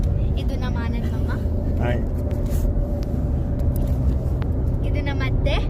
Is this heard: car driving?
yes